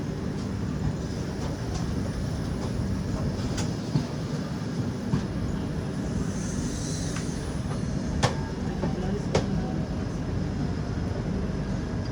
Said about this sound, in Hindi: सिकंदराबाद रायपुर सुपरफास्ट एक्सप्रेस, ये भी मेरे हिसाब से जा रही है शंटिंग होकर के